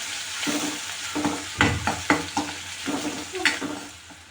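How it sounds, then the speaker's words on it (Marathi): Onion and plenty of curry leaves sauté in a pan for a quick breakfast made from leftover chapati, a steady sizzle broken by a spoon stirring and scraping several times, close and with no talking. "कढीपत्ता घालायचा आहे भरपूर, कांदा टाकायचा आहे. कांदा मस्त परतून घ्यायचा."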